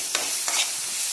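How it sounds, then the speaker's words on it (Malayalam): Onion, green chilli, ginger and garlic sauté in a pan, a soft sizzle broken by a couple of quick stirring scrapes, close and alone. "ഉള്ളി വാടിയിലേക്ക് നമുക്ക് ഇഞ്ചി വെളുത്തുള്ളി ഇട്ടിട്ട് നന്നായിട്ടൊന്ന് വഴറ്റി കൊടുക്കാം കേട്ടോ."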